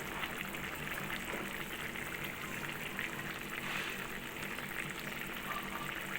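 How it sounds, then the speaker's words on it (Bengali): Curry with bori lentil dumplings bubbles in a pot, a dense, steady simmering hiss and burble heard close and continuous without a break. "বড়িটা দিয়ে এখানে ফুটিয়ে নিচ্ছি"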